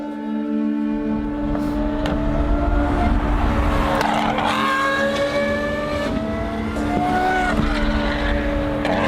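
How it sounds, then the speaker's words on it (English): Loud, steady exhaust drone from a revving Lamborghini SVJ with a full straight pipe exhaust, with rising and falling pitch sweeps as the throttle blips, close and continuous. "A full straight pipe system from Valvetronic."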